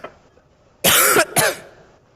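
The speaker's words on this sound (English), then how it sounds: "I'm getting a cough coming." Two harsh, loud coughs in quick succession from a person, preceded by a faint breath, with otherwise quiet surroundings.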